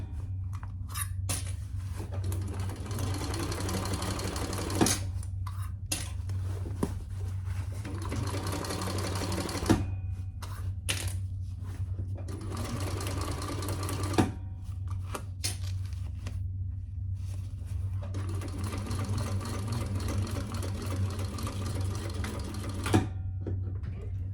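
Sewing machine stitching a bag, rapid mechanical chattering in bursts of several seconds separated by short pauses, over a constant low motor hum.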